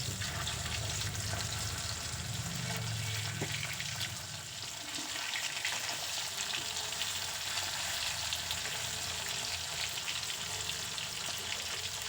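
Pabda fish frying in oil in a pan, a steady dense sizzle with fine spattering crackles running throughout at close range, with no talking.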